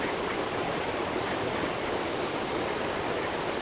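The Orlik river rushes steadily at a dam, a dense, even wash of flowing water that fills the whole stretch without pause and with no voices.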